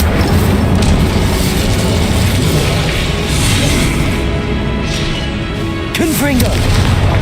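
A fire spell, Incendio, cast repeatedly in Hogwarts Legacy: a dense, continuous roar of flame and impact bursts with no break, and a short voice cry near the end.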